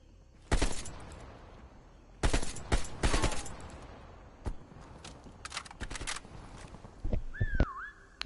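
Gunfire in an online shooter video game, a string of sharp cracks in separate bursts, some single shots and some quick clusters, loud and close with quieter stretches between.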